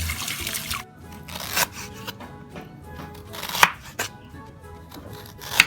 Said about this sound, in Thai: ก็นำขิงมาหั่นเป็นชิ้นๆ